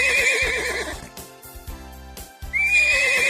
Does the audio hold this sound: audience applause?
no